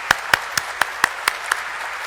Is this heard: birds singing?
no